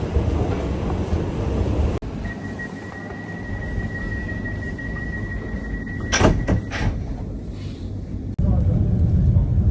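Inside a moving Melbourne train carriage, a steady low rumble of the ride continues throughout, broken by a sliding door thud and a high whine, with voices faintly present.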